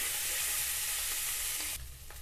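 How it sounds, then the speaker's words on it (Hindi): Salted potatoes frying in a pan while being stirred give a loud, dense hiss that drops off abruptly near the end, leaving a quieter sizzle. "इसको भी हम चलाते हुए आलू को फ्राई कर लेंगे।"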